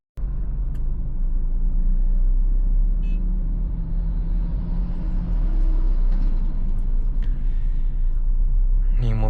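A steady, loud low rumble of cars and heavy traffic rolls along a badly damaged stretch of the Trans-Sumatra highway, continuous throughout with no pauses.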